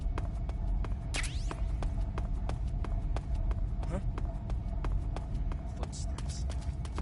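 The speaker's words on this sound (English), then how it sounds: "Footsteps." Regular footsteps thud in the Metal Gear Solid 3 video game, a steady rhythmic patter over a constant low hum, with a few brief higher sweeps.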